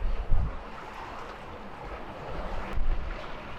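Steady wind rushes over a sailboat at sea on a Caribbean passage toward the Cayman Islands, a broad continuous roar with gusty swells and low buffeting rumbles near the microphone, no voices.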